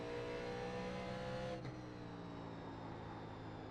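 A 1987 NASCAR stock car laps Bristol in the iRacing sim, a loud, steady, harmonic engine drone that drops in pitch and level partway through as the car lifts off the throttle.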